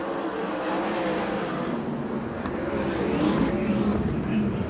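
USAC/CRA sprint cars race around the Perris, California track, a continuous engine roar that builds toward the end as cars pass, heard from a distance without commentary.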